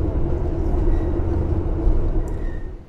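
Steady low rumble and rattle of the Kutojaya Selatan passenger train in Indonesia while riding, a continuous close-up hum with slight rhythmic clatter, no talking.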